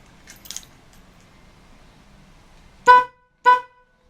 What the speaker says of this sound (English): going to prove the horn works now